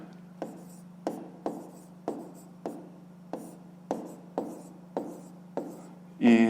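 A pen writing out a math answer in a fifth-grade exercise, a string of about a dozen sharp taps and short strokes at an even pace over a low steady hum, close and quiet.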